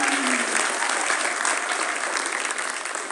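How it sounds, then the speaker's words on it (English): Full audience applause for a choir accompanist at a high school vocal concert, dense even clapping that stays loud and tapers slightly at the close. "Give her a round of applause, please."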